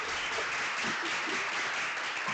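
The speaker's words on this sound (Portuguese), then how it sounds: "Uma salva de palmas para ela." Applause from a podcast studio audience thanking a guest teacher, a steady broadband patter of clapping lasting throughout, moderately distant and even.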